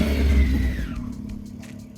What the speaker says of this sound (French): Une moto.